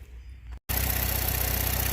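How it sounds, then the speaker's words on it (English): A 2014 Chevy Cruze engine with a PCV vacuum leak: a brief quiet lull, then the engine comes on with a steady idle and a strong, constant airy hiss layered over it, close and continuous. "It makes hissing noise, like a leak."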